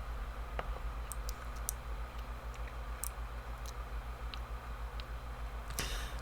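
Scattered computer keyboard clicks, a dozen or so irregular sharp taps, sounding close but fairly faint over a constant low electrical hum, with no talking.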